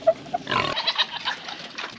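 Big pigs on a muddy farm at morning feeding time grunt and snort close by, with a few short squeals over a rustling, chewing clamor that keeps going throughout.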